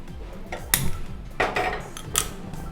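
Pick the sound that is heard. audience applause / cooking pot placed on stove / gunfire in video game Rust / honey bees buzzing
cooking pot placed on stove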